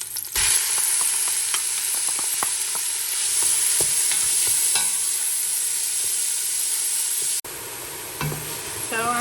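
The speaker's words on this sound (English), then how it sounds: "So I'm sauteing everything with coconut oil" Garlic and onions sauteing in coconut oil in a pan, a continuous loud sizzle with scattered clicks and scrapes of stirring, dropping slightly quieter near the end.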